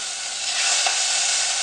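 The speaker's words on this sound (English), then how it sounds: "You have to put some oil, just a little. I will use like 8 or 10 shrimp." Eight to ten shrimp frying in a little oil give a steady, loud, close sizzle with a bright hiss that holds evenly from start to finish, with no voices over it.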